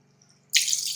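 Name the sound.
water poured into a steel pan with meat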